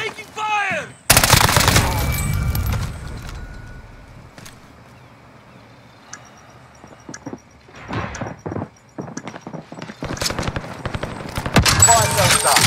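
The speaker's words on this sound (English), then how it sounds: "I'm taking fire!" Gunfire rattles through a Call of Duty Warzone match on Rebirth Island, with sharp bursts of automatic and single shots arriving in clusters, loud and close, separated by quieter gaps, and a voice speaking among the shots.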